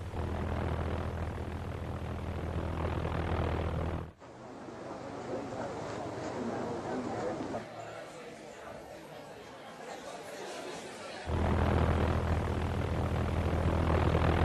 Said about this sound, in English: the V-1 flying bomb, an unmanned aircraft packed with explosives, with a sound that would strike terror into the residents of London